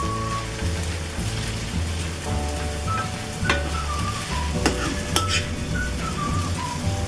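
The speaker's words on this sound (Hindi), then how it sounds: "अब इनको हम एक प्लेट में निकाल देंगे।" Fried okra (bhindi) is scooped out of a hot pan onto a plate. Steady oil sizzle fills the background, with scraping and light clinks of a spatula against the pan close by and no talking.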